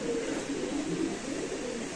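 Pigeon cooing, the sapchila-type birds kept for sale, a steady low murmuring coo continuing throughout, moderately loud and close, with no speech.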